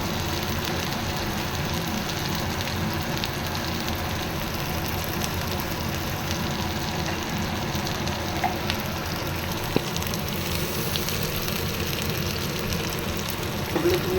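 Spices with turmeric powder sauté in a pan, giving an even, continuous sizzle at moderate volume, with a few faint clicks and no talking.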